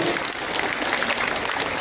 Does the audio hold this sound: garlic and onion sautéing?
no